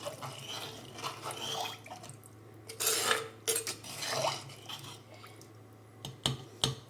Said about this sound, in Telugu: ఒకసారి మొత్తం కదిపేసుకున్నాం.